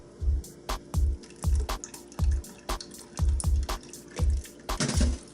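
Cooked squash for Haitian soup joumou is dumped into a small drainer, water splashing and draining in repeated low, sloshing pulses as it is shaken, close and alone.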